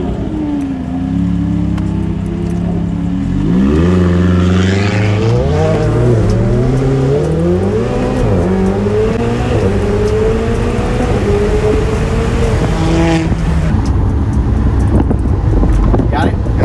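A Lamborghini Aventador supercar accelerates hard through the gears on a city street, its engine note climbing loudly in rising sweeps and dropping at each shift, under heavy wind buffeting.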